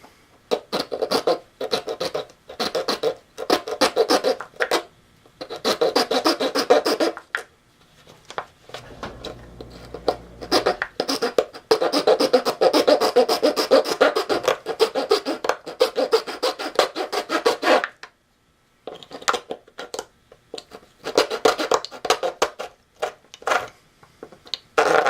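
Hacksaw blade without its handle cutting into a plastic bottle, close and loud, with rapid scratchy back-and-forth strokes in long runs broken by brief pauses.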